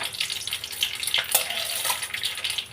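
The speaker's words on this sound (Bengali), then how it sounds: "তেল গরম হয়ে গেছে এইবারে একটা শুকনো লঙ্কা কালো জিরে দিয়ে দিলাম" Dry red chilli and nigella seeds sizzling in hot oil in a wok, a close crackling hiss with small irregular pops and spatters throughout.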